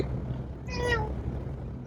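A single short, clear cat meow rises over a low background rumble, close to the microphone.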